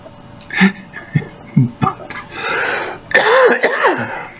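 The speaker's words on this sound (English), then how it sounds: "I just started coughing fit." Several harsh coughs and throat-clearing sounds come in a ragged burst, close to the microphone, followed by a strained, breathy vocal noise.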